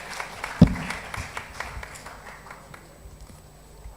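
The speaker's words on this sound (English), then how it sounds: "A round of applause for him," Scattered, light clapping from a conference audience at an annual business law event of the Nigerian Bar Association's business section, fairly quiet, with sparse claps that thin out over a few seconds.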